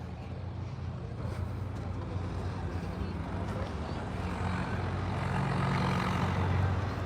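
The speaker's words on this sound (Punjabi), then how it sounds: "ਪਰਲੇ ਪਾਸੇ ਟਰੈਕਟਰ ਚੱਲਦੇ ਨੇ" Tractors drone steadily in the distance beside the Ghaggar river at Shutrana, a continuous low engine rumble that swells slightly toward the end.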